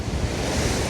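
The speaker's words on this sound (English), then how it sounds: "I'll just leave you with a little bit of wave action" Ocean waves crashing onto the shore at Groudle Glen on the Isle of Man, a loud continuous roar of surf mixed with wind buffeting the microphone.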